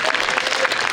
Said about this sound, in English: I feel like we should clap first.